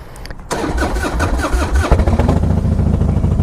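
A Harley-Davidson Softail Standard motorcycle starts up: a short crank catches at about half a second, then the V-twin settles into a loud, close, lumpy idle with steady throbbing pulses and no talk.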